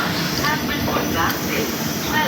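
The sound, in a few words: train departing from station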